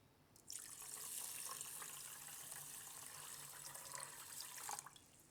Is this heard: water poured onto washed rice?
yes